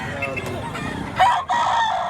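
Rooster crowing at a Tuesday poultry market in Padre Garcia, Batangas, one loud, close crow rising above the busy crowd noise and nearby chatter.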